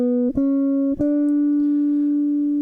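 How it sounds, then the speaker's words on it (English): A D melodic minor scale played note by note, clean sustained pitched tones stepping upward with three distinct attacks, the last note held and ringing, close and without talking. "let's see what D melodic minor sounds like."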